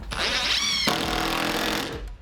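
A power drill whirs up in a workshop, its motor pitch climbing and then shifting to a steady loud whine before spinning down near the end, close and with no talk.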